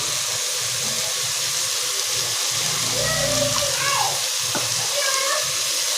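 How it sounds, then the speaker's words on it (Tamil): Chicken frying and sautéing in a pan for a home-style chicken gravy, a steady loud sizzle with brief stirring scrapes and clinks, and a voice speaking softly underneath. "இப்போ வந்து சிக்கன் வதங்கிட்டுருக்கு"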